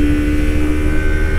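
A Yamaha MT-25 motorcycle engine is held at high rpm, a loud, close, sustained buzzing whine with a steady pitch and no talking.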